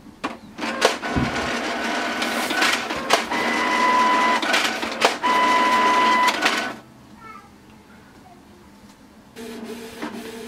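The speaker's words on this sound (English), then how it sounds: "now just wait for the print to come out" A Canon TS3322 inkjet printer prints a page with loud mechanical whirring, clicks and feed motor tones, then settles into a quieter hum and a final short rattle.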